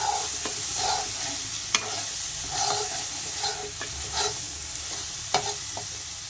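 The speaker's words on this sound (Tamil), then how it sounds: "மிளகாய்த்தூள் சேர்த்துக்கொண்டு நன்றாக கலக்கவும்" Chili powder being stirred into a bitter gourd curry in hot oil, a spoon scraping and clinking in the pan over a steady close sizzle, with occasional sharper knocks and no voices.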